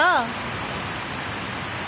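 Steady rain pours down as an even hiss throughout, with a short burst of a voice right at the start.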